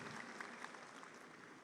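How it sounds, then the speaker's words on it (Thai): An audience at a Thai village fund community workshop meeting applauds to welcome a guest, a steady wash of clapping from many hands that holds at an even level throughout without any talk. "ขอเสียงปรบมือดังๆต้อนรับท่านด้วยนะคะ"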